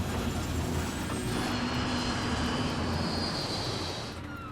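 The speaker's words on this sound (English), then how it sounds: "The plane is losing altitude and falling out of the sky." A passenger jet losing altitude and falling toward the ground, a loud continuous roar with rising high-pitched whine and rushing noise that holds steady throughout, with no talking.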